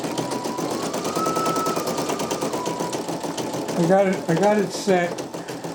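A Brother PE900 embroidery machine stitching a custom design, a fast even mechanical chatter with a steady whirring tone, while a person talks over it near the end.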